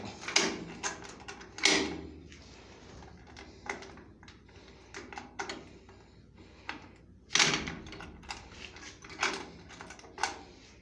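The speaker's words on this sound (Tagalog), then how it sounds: "Ayan, sinarado ko yung pintuan ah." A door is shut inside a room, with a sharp knock near the start and a loud thump toward the end among scattered quieter clicks and handling sounds in a hushed indoor space.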